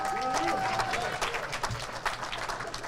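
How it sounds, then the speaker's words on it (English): Diners at a St. Patrick's Committee installation dinner applaud a man's son, a short burst of scattered clapping and crowd noise in a room, mixed with a brief tone and murmuring. "You've had enough applause for the night"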